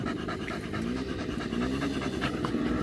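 A Patterdale Terrier, a small hunting terrier, pants close by in quick, steady rhythmic breaths, loud and continuous with no voices over it.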